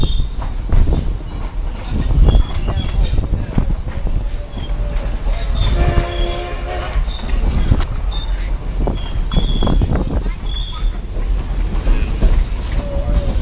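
A train rolls loudly past at close range while turning, with continuous rumbling wheels, rhythmic clatter over rail joints and squealing flanges through the curve, no talking.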